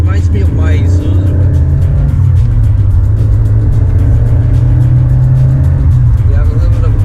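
Isuzu car engine with short gearing and a short shifter, a loud, constant close drone that rises and holds in pitch as it revs, with a voice talking over it.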